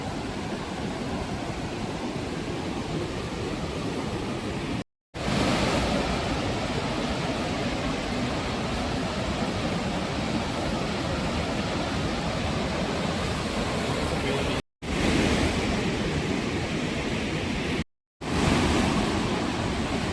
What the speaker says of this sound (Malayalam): ഇവിടെ നിന്നാൽ കുറച്ചുകൂടെ നന്നായിട്ട് കാണാം വെള്ളത്തിൻ്റെ ചാട്ടം